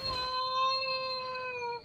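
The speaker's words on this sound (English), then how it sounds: "You say there goes your cat? Yeah, he's doing his thing. Cat things. Yelling loudly." A house cat lets out one long, loud, drawn-out meow, steady and tonal with a slight waver, ending abruptly with a brief click; no talk over it.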